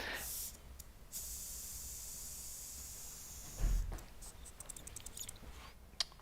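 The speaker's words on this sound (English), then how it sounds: "And we're going to slowly deflate the air cylinder." Air hisses steadily from a slowly deflated air cylinder on a Trust internal assembly, a broadband rush lasting about a second and then trailing off into quieter handling clicks and a brief thump.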